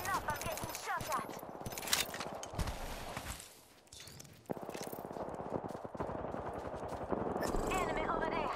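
Rapid gunfire in the video game Apex Legends: quick bursts of clattering shots, some close and sharp, others more distant, mixed in with speech.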